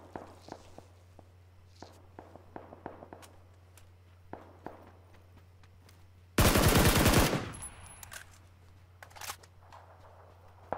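Suppressed gunfire in a shooter video game: a series of soft, dull shots and clicks spaced through the scene, then a sudden loud burst of louder noise in the middle before it returns to sparse muffled shots.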